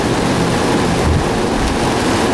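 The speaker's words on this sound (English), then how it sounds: "it is pouring." Heavy thunderstorm rain hammers steadily on a 2007 Ford Mustang GT in Tyler, Texas, giving a loud, unbroken wash of noise with a few brief heavier thumps.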